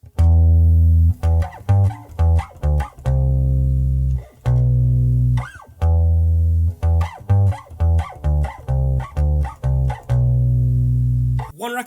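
Bass guitar plays a well-known riff in a simple kids' lesson, loud clean low notes in repeating phrases with short gaps between them.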